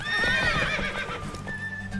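A video game horse lets out a loud, close whinny that falls in pitch, with faint hoof clops at the edges.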